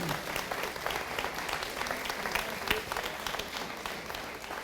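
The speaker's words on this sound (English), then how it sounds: "let's give Tim a round of applause." An audience at a historic homes lecture claps together in steady, dense applause, moderately distant and continuous for several seconds with no one speaking over it.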